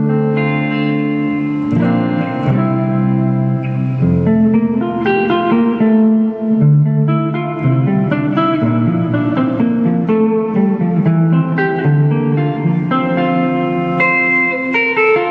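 Electric guitar played through a Fender speaker, likened to a stock Deluxe Reverb type, mounted in a 2x12 cabinet, ringing out sustained chords and melodic notes with effects and reverb, loud and continuous with no talking.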